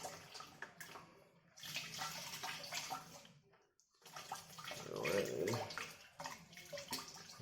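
Hot water runs from a tap to rinse a spoon, splashing in irregular bursts that start and stop with short pauses between, fairly close and moderately quiet.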